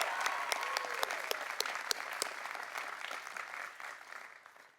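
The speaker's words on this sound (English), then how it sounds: "How about another round of applause?" Steady applause from an audience at a commencement ceremony, fairly distant, with a few sharper claps standing out before it fades toward the end.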